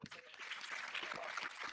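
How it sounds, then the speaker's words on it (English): Thin, scattered clapping from a large audience at a military hospital induction ceremony for newly qualified physician assistants, faint and uneven over a short stretch. "The applause is too feeble."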